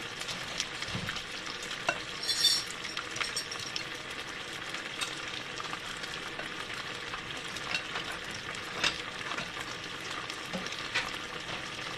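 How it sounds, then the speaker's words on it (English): Battered fish frying in a pot of hot oil, giving a continuous, even sizzle and crackle at moderate loudness, with a few faint clinks. "Now this will fry up here in a second."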